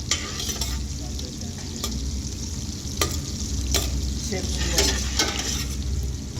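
Garlic frying in a light mix of olive oil and butter, a steady close sizzle with scattered scraping stirs and occasional utensil clicks against the pan throughout.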